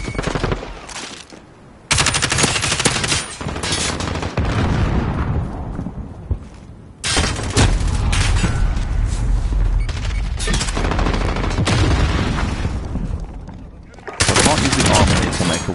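Gunfire in the video game Call of Duty: Modern Warfare, with loud, dense automatic bursts and heavy shots that run almost nonstop, broken by a few sudden cuts and short lulls.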